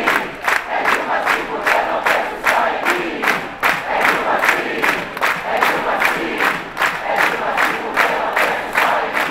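A rally crowd in Rio de Janeiro cheers Dilma with rhythmic chanting and clapping, loud and sustained, voices rising and falling in repeated bursts.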